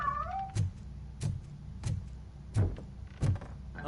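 A cat meows repeatedly in the video game RoboCop Rogue City, giving five short, fairly loud cries spaced at roughly even intervals, alone without talk.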